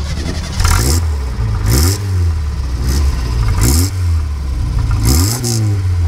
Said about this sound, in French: Tu peux nous démarrer la voiture? Il y a du son de l'échappement